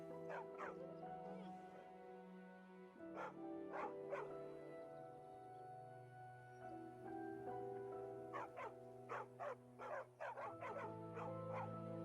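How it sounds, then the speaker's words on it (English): Dog in Skyrim Anniversary Edition barking repeatedly with yips and whimpers in scattered bursts, clustering into a quick run of barks near the end, over steady background game music. "It is a random dog."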